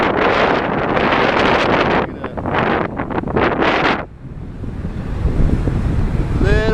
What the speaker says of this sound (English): Little bit of wind out here,